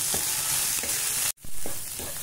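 Mixed vegetables with green peas, being fried in a pan for vegetable oats, sizzle in a continuous close crackle with soft stirring, broken by one brief silent gap.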